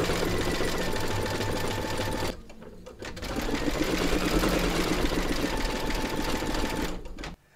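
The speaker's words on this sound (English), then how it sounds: "Load your thread colour for the highlight of the eyes into your machine and then stitch round number 8" An embroidery machine stitches the eye highlights of a bunny design in white thread, a steady close mechanical whir with a short pause mid-run before it resumes.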